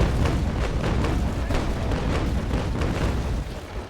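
A broadside of ship cannons in the video game Naval Action, a loud continuous rumble of overlapping booms and rolling blasts lasting several seconds.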